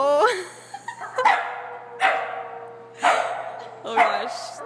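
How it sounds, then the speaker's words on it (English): A dog gives several short barks and yips spaced about a second apart, close by, mixed with excited, higher-pitched whimpering sounds and a light voice in the background. "This is Micah's dog that he's been talking about all day."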